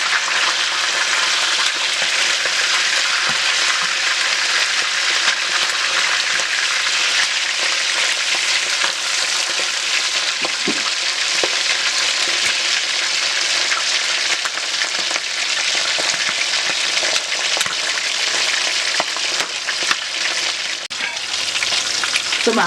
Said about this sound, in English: So it's been frying on one side